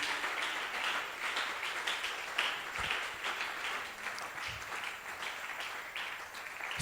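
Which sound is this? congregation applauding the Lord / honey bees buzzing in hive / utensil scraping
congregation applauding the Lord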